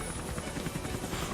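A helicopter in an animated Death Battle fight between Lara Croft and Nathan Drake roars with a dense, steady rotor chop, loud and close throughout the brief moment.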